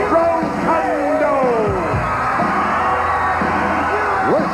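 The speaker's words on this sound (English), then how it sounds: "Listen to the crowd." Wrestling arena crowd at a 1985 World Wrestling Federation event roaring and cheering as new tag team champions are introduced, a dense continuous wash of yells and whoops with a ring announcer's voice over it.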